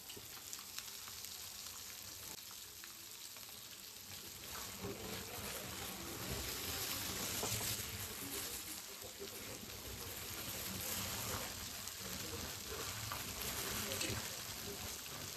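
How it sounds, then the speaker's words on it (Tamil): A steady bubbling sizzle of fish cooking in boiling fish curry in a pot, continuous and close, with faint stirring and clatter underneath. "இப்போ நம்ம கழுவி வச்ச மீன் நம்ம மீன் குழம்புல போட்டலாம்"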